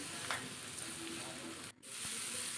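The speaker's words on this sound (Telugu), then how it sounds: "ఈ విధంగా సిమ్లో పెట్టి ఫ్రై చేస్తూనే ఉండాలండి" Bitter gourd pieces frying in a pan on a low flame give a soft, steady sizzle with a brief pause partway through, heard up close and fairly quiet.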